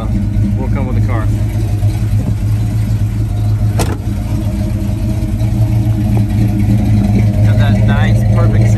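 A 1969 Pontiac GTO convertible's 400 V8 runs close by with a deep, steady idle rumble that swells briefly with light revs; a person speaks over it at moments.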